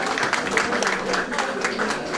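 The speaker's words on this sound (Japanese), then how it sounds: "これは大きな拍手をお願いします" Applause from a small crowd for the men's champion at an outdoor park golf tournament in Tomakomai, a dense patter of clapping held steady at moderate distance for a couple of seconds.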